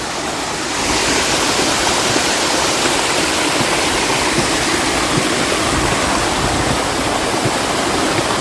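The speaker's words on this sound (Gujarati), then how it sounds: "બહુ પાણી નીકળે જો આમાં." Water gushing under pressure out of a pipe, a loud, steady rushing roar that swells up within the first second and then holds constant and close, with no voices over it.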